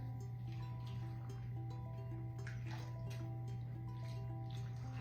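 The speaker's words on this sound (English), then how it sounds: "we're going to take our orange juice, water, brown sugar mixture that is hot, and we're gonna pour it in each jar" Hot orange juice, water and brown sugar syrup poured into canning jars for sweet carrots, a quiet liquid trickle and splashing over a steady low kitchen hum.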